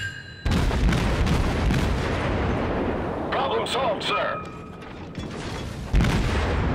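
Naval guns boom repeatedly in World of Warships around a Tenryu cruiser, loud heavy blasts and mechanical rumble layered densely throughout, with a sharper burst near the end.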